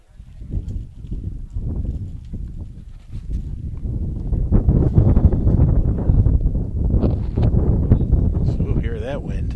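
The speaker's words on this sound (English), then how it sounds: "So hear that wind." Wind gusting across the microphone at an outdoor high school soccer game, with rough, loud buffeting rumbles that swell and build. A commentator talks over it.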